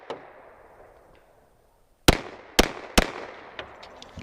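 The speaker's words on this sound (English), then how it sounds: "So I'm just gonna fire 4 shots from each of these" A Sig P365 pistol fired outdoors in snow, with four sharp, loud shots spaced about half a second apart, each followed by a brief echo, after a quiet stretch of faint background noise.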